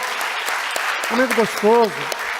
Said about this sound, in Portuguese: Vamos dar um aplauso aos irmãos, às irmãs, ao pessoal aqui.